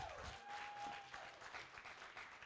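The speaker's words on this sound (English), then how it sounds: "can you get a round of applause for both teams?" A debate audience applauds both teams, producing steady sustained clapping at a faint, distant level with a brief tonal whistle near the start.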